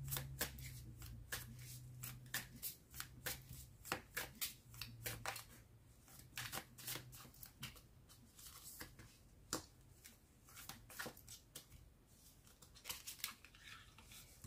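Tarot cards shuffled by hand for a new draw: a quick, continuous run of crisp riffling snaps and slides, close and fairly quiet, keeping an uneven rhythm for the whole stretch with no talking.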